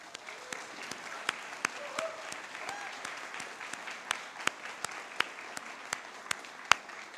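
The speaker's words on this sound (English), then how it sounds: "Please give them a huge round of applause." Audience applause at a spring graduate commencement ceremony, steady clapping from a large crowd across the whole stretch, with sharp individual claps standing out near the front and a faint whoop or two rising briefly.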